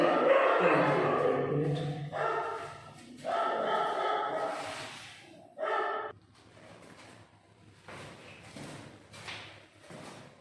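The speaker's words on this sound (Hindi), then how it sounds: "शोरगुल होने लगे थे, कुत्ता बोलने लगा था।" A dog barks and yips a few times close by in the first half, short bursts separated by pauses, followed by quieter scattered household noises.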